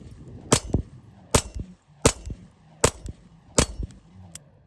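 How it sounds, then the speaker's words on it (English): A Kahr CM9 pistol fires five sharp, loud shots at an even, unhurried pace, each crack ending in a short metallic ring and echo. "Let's shoot some rounds to it real quick."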